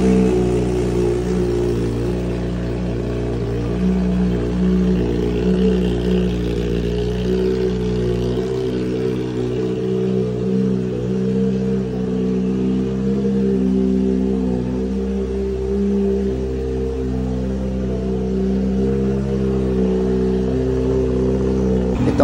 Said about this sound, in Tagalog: Ayan ang ating motor. Sound check na natin to mga boss.